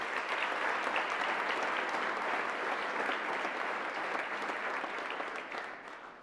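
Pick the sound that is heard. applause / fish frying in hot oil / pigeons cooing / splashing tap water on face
applause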